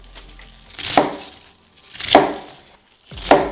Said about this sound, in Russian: Капусту нарезаем мы необычно, крупно.